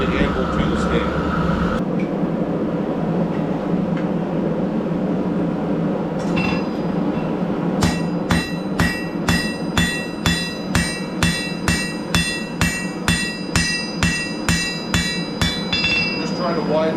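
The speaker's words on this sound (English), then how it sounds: "I'm gonna hammer end flat, punch a hole in it, put a couple bends in it" A metal strap is hammered flat on an anvil in a workshop, about twenty sharp, ringing blows in a steady even rhythm, close and loud, preceded by a few seconds of shop noise and handling.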